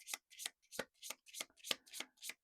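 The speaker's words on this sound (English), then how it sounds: "I'm going to pick a little enchantment card again because I love these cards" Enchantment oracle cards are shuffled by hand in a quick, steady run of about eight crisp riffling bursts, close and clear.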